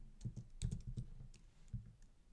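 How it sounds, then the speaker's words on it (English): A word is typed on a computer keyboard, about a dozen soft, close keystrokes in quick uneven bursts with a short pause before a final tap. "You just type the word here,"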